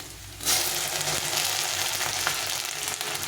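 Potatoes and spices sizzle loudly in a hot pan, a steady close frying hiss that surges after a brief quieter start and holds strong throughout.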